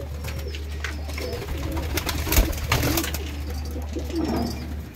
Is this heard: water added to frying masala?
no